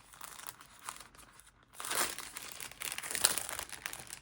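A plastic stationery haul bag crinkles and rustles as it is handled up close, in uneven bursts that grow louder toward the end.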